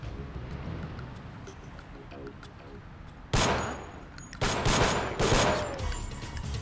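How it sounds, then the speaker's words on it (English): Gunfire in the Deus Ex video game: a loud burst of shots breaks out after a quiet stretch, followed by more rapid rattling volleys close by. "Okay, good shooting indeed."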